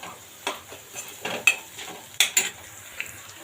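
Onions stirred and fried in a pan with turmeric, a faint sizzle under a series of distinct scraping strokes of a spoon against the pan, close and irregular.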